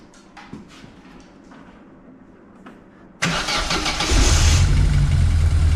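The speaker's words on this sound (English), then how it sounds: "fire the car up." A Vauxhall Nova with a rebuilt 1.2 L engine is cranked over after quiet fiddling and catches abruptly, then settles into a loud, steady idle that swells slightly as it runs, close up and with no voices.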